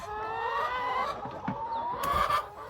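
Hens cluck and murmur inside a backyard chicken coop, several birds calling close by in overlapping, tonal bursts with a few sharper squawks.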